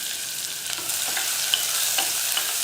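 Chopped onion and cumin fry in oil inside a pressure cooker, a steady close sizzle broken by a few soft stirring scrapes, with no voices.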